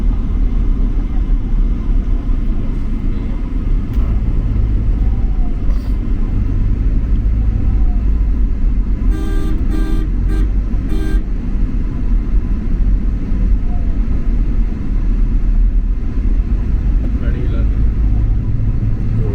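A loud, constant low rumble of vehicles passes a truck accident site on a road, with engines droning steadily throughout and a person talking over the traffic.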